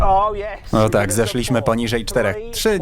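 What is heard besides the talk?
No distinct noise like a dog, phone or traffic.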